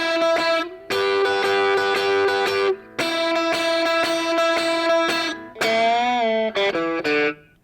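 An intro lick on electric guitar, played at full speed: bright, ringing notes in quick runs, with bends and slides near the end, loud and close with no voice.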